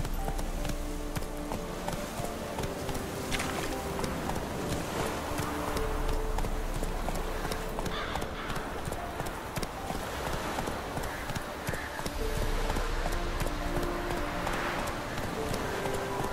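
Roach the horse galloping in The Witcher 3, continuous rhythmic hoofbeats close up over steady game ambience and music, lasting the whole stretch without pause.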